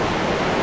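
Water crashes down a waterfall along the Varandha Ghat route in the Konkan hills, a loud, steady broadband roar with no pauses, heard alone for a brief moment.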